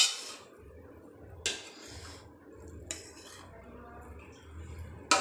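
Cooked chickpea pulao, made degi commercial style, is served out of the pot with a metal spoon, giving a few sharp clinks and scrapes against the pot over a low, steady kitchen rumble.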